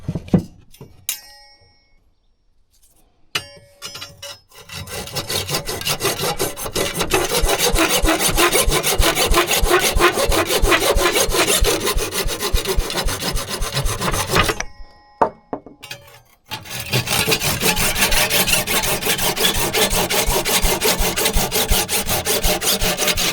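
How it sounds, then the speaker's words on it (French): A wooden roof edge board is sanded in long, steady, rhythmic rasping strokes that are loud and close, broken by a brief pause partway through before the scraping resumes. "Poncer cette planche pour qu'elle soit propre."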